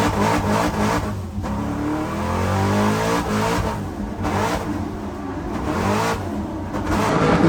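A BMW E30 race car fitted with an LS V8 roars past on track, loud engine revving surging and dipping in repeated bursts with gear changes, a brief tire squeal and a heavy rumbling exhaust.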